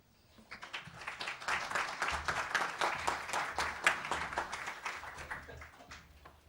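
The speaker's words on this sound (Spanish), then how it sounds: "Les pido un fuerte aplauso para él." An audience at a book presentation breaks into warm applause of many hands, rising, holding steady for several seconds and then tapering off, heard from a moderate distance.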